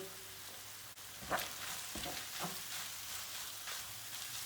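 Onions and minced meat fry in a pan for a Turkish börek filling, a soft steady sizzle with occasional stirring scrapes, close and fairly quiet with no talking.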